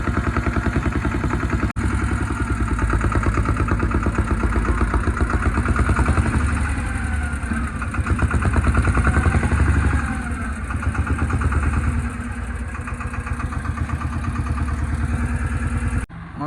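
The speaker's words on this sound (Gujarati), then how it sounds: "અત્યારે જો ટ્રેક્ટરો છે ને રેમ્પ માથે ચડાવવાના ચાલુ કર્યા છે" Tractor engines labor steadily while climbing a ramp built by a loader, a continuous chugging diesel rumble with clattering vibration, fairly loud and close, easing briefly near the end.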